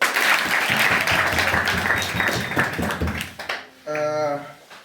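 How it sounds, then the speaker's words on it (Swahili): Church congregation at Sunday Mass at Kakalel Catholic Church in Lodwar clapping for themselves, a steady crowd of hand claps for over three seconds before stopping abruptly, followed by a speaking voice. "Tujipigie makofi."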